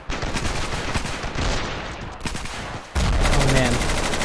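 Automatic and single-shot gunfire from the video game Ravenfield bursts in rapid, sharp volleys with heavy recoil, dropping briefly before a louder sustained burst near the end.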